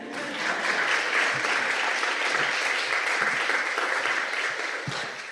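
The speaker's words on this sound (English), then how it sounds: "if you want to clap" Steady, full audience applause at a special lecture by a former South African president, a dense even roar of clapping filling the hall throughout.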